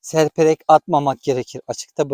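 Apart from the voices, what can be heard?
No everyday noises stand out.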